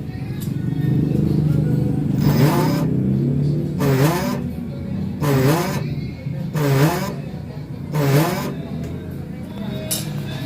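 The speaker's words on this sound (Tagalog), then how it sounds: "Bali, papaikutin ko guys yung motor, tapos maingay siya. Pakinggan nyo guys." A faulty, noisy electric motor on an e-bike spins up in repeated bursts about every second and a half, each rising to a whining, warbling sweep over a steady low hum, close and loud.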